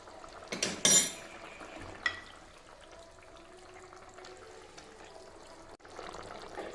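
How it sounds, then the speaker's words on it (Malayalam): Pieces of fish added to a Kerala fish curry in a pan, a clatter of metal and dishes followed by a soft sizzle and faint scraping, close and fairly quiet. "ഇനി നമുക്ക് നമ്മുടെ മീൻ ചേർത്ത് കൊടുക്കാം."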